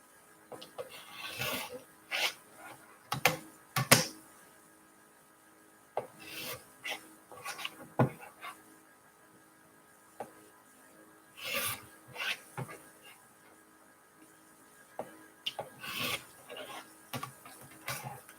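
Quilt fabric pieces for a hunter star block being trimmed, with soft scraping, rubbing and snipping sounds in irregular bursts between quiet pauses, close and faint.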